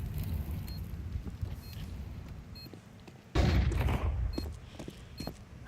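An HE grenade bursts in the video game Counter-Strike, a sudden loud boom that rolls off over a second or two amid scattered distant gunfire and match ambience.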